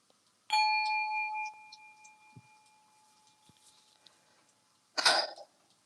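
A meditation chime struck once rings out with a clear, bright tone that lingers and slowly fades over several seconds, followed later by a short breathy burst in an otherwise quiet room.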